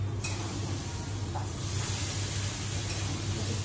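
Gram flour (besan) water poured into a hot spice tempering gives a steady, continuous sizzling hiss that holds evenly throughout, with no talking.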